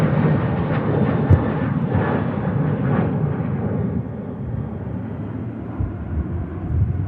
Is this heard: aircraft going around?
yes